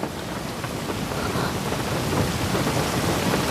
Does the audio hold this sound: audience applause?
no